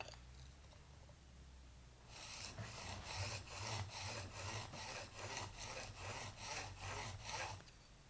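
A chisel blade is rubbed back and forth on a sharpening system, giving about a dozen even rasping strokes in a steady rhythm, close and fairly quiet after a short hushed start.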